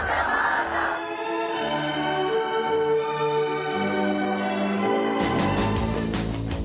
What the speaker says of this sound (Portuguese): Cada comemoração dos atletas contagiava a torcida na Arena Carioca 2.